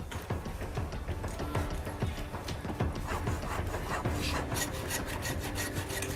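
A hacksaw cuts through toughened steel bars, giving steady rasping strokes that repeat throughout with some louder scraping near the end.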